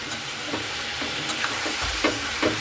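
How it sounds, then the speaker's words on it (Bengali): Chicken pieces with salt and turmeric being stirred in a hot pan, a continuous sizzle punctuated by regular spatula scrapes and clacks against the pan, close and clear with no talking. "লবণ আর হলুদটা দিয়েও খুব ভালো করে নাড়াচাড়া করে নিচ্ছি।"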